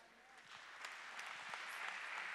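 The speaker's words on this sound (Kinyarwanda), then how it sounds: "Les acclamations pour le Seigneur" Applause from a church congregation during a worship service, a steady crowd clatter of many hands swelling slightly and sustained to the end, fairly distant and soft.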